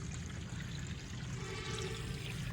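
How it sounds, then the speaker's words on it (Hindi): Garden irrigation water flows steadily along a channel, a continuous close rushing and trickling with no voices. "पानी यहाँ से इस तरफ जा रहा है"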